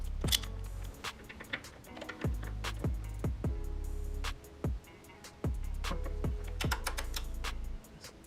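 A wrench tightens a bolt on the passenger footpeg of a 2017-or-later Harley-Davidson Iron 883, giving bursts of sharp, close ratcheting clicks with short pauses between them.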